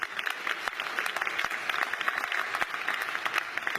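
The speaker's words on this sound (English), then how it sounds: "I'd like to give all those board members and Michael Freemuth a round of applause as well." Audience applause at the opening ceremony of UConn's downtown Hartford campus, an even wash of clapping from a seated crowd, moderately loud and continuous with scattered sharper claps standing out.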